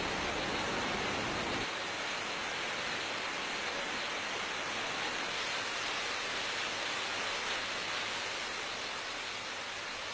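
Water rushing down a sloping highland escarpment near Sapa forms a steady, dense roar of falling water, continuous and close, with no voices.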